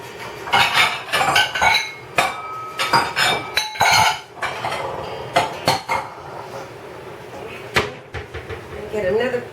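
Bowls, dishes and utensils clatter and clink in a home kitchen while spicy peach salsa jam is prepared, with sharp, irregular knocks and scrapes coming close and loud throughout and a voice talking at times.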